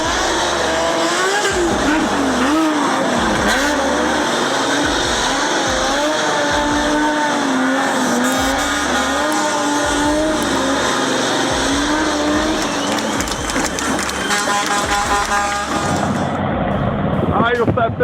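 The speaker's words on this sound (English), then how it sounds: "trucks pulling off corner slides like this" A Volvo FH750 truck slides around a corner with loud engine roar and squealing tires, continuous and dense throughout, with music or voices mixed in.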